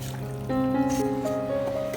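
A cup of water is poured into a pan holding chicken, onions, tomatoes and garlic-ginger paste. It makes a brief, close trickle and fill with a ringing tone that rises in pitch as the liquid lands.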